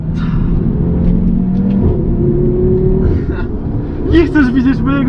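Audi RS3 pushed hard around a race track, its engine droning steadily with a rising rev surge near the end, heard up close from inside the car while people talk over it.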